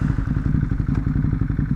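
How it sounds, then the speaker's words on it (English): A Ducati Hypermotard motorcycle being ridden, its engine thumping in a fast, steady pulse close up, with clattering and a sharp tick near the end and no talk. "I'm on my motorcycle right now"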